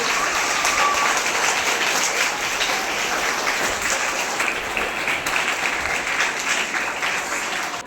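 An audience at a school teacher's retirement felicitation ceremony applauds steadily, a dense and even wash of many hands clapping throughout with no break.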